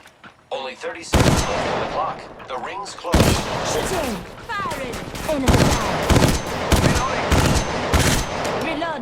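A gun in Apex Legends Mobile fires loud, rapid three-round bursts again and again, with a game voice calling out over the shooting.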